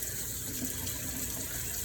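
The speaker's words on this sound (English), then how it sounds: "run them under the sink, under the faucet in the sink" Tap water runs steadily from a faucet into a sink while orchids are rinsed under it, a continuous close splashing stream with no pauses and no voices.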